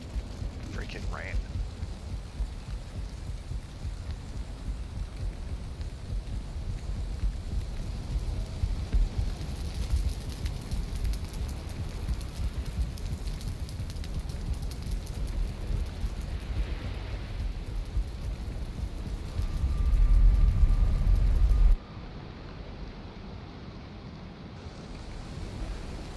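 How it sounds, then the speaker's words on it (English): Steady rain with low thunder rumbling underneath in the game Valheim, continuous for a long stretch, growing heavier and louder before cutting off abruptly near the end. "Freaking rain."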